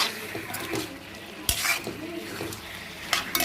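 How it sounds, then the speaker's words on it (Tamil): Goat head curry with brain frying in a pan as it is stirred, a sizzling hiss with repeated scraping strokes and a sharp metallic knock of the spoon against the pan, close up and without voices. "இப்போ அந்த மூளையும் போட்டு ஒரு கிளர் கிளறிட்டு"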